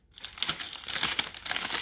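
Thin paper wrapping crinkles and rustles close by as a bottle of Glenlivet single malt Scotch whisky is pulled out of it, a dense, continuous crackling that rises after a brief quiet start.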